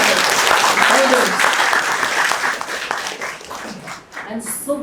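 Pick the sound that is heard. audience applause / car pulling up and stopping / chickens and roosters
audience applause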